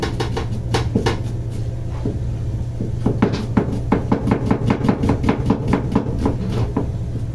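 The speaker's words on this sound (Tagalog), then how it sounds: "Dito mano-mano ko lang hiwain itong lahat ng gulay na ito." Rapid, steady knife chops as vegetables are cut by hand on a cutting board for lumpiang Shanghai filling, a dense run of sharp wooden knocks with a low constant hum beneath.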